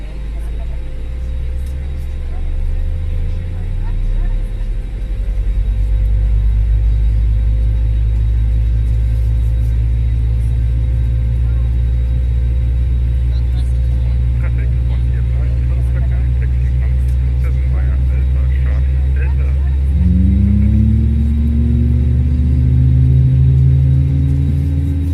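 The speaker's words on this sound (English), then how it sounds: "Let's go ahead and start engine 1." Airbus A320 engine spooling up during startup in a flight simulator: a loud, steady low rumble builds and holds, with a rising whine sweeping upward near the end as the engine accelerates.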